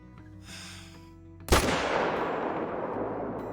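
A hunting rifle fires one loud, close shot at a buck in the hunting game Call of the Wild, a sharp crack at mid-clip that rolls into a long, fading echo over quiet ambient sound.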